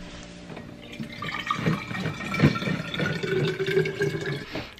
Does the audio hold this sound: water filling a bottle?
yes